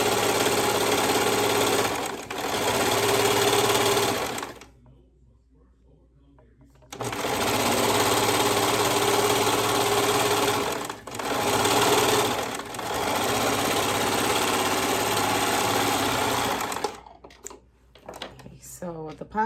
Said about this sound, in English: So now we're going to sew the pocket to the rest of the pocket.